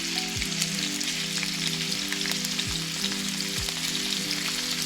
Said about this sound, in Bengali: চিংড়ি মাছটা ভেজে নেবো এটার মধ্যে আমি লবণ গোলমরিচ কিছুই দিইনি শুধুই ভেজে নিচ্ছি